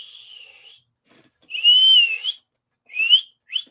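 A person whistles to call cats in several bursts: a long tone, a warbling phrase, then shorter rising whistles with brief pauses between, loud and close.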